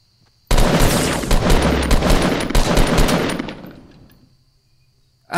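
Rapid automatic gunfire from the video game Fortnite rattles loudly in a dense burst lasting about three seconds, then trails off into quiet, with no talking.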